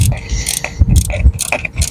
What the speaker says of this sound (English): I'm gonna undo these two bolts here the 10mm bolts.